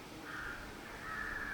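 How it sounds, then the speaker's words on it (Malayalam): Crows caw at a distance during a Ramayana lecture, with a few faint, drawn-out calls over a low background hum. "കാക്കകൾ ഒച്ചവയ്ക്കാറുണ്ട്."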